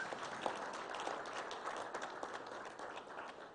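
An audience at the official Ghana.gov launch applauds the Vice President, a fairly faint, distant-sounding wash of steady clapping with a few sharper claps, fading slightly near the end.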